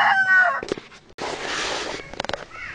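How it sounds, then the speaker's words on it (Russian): Chickens wander a backyard coop area, a rooster letting out a loud, close crow followed by a burst of short, sharp clucks and cackles. "Куры у меня тут лазят."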